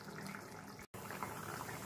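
Fish curry gravy made with rohu, taro and potato bubbles at a steady boil in a pan, a continuous close liquid simmer with one brief dropout partway through.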